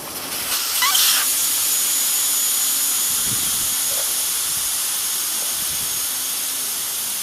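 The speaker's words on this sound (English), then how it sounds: "Now, to get the air out of this tire. Take out the core of the valve." Air hisses out of a tire through a valve stem with its core removed, a loud steady broadband hiss that starts with a brief burst and then holds evenly to the end.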